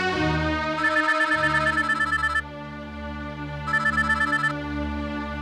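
A phone ringtone trills loudly in two bursts separated by a short gap, a bright electronic ring with no talking.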